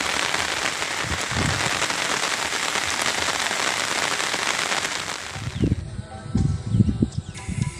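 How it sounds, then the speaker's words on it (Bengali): Rain falls steadily in a village as a dense, even hiss for about five seconds, then thins to quieter scattered drips with a few low, close thumps. "অসাধারণ বৃষ্টির মুহূর্তটা"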